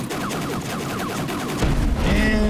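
Explosion in the X4 Foundations space simulator game: dense crackling blasts build into a louder, heavier low boom near the end, loud and alone.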